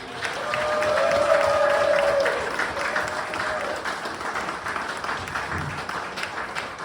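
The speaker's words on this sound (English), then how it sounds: "Go ahead and give them a huge round of applause." A live comedy hypnosis show audience gives volunteers a big round of applause mixed with cheering, a dense, loud wash of clapping that swells and then holds steady, with a brief vocal tone early on.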